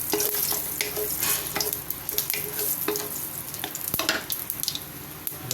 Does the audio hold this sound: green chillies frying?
yes